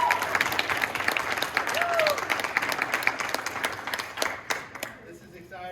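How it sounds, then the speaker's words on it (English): A school gathering claps for Emily Vanderbilt and her family, a dense round of applause from the crowd that carries steadily, then thins out and fades near the end. "how about just a round of applause?"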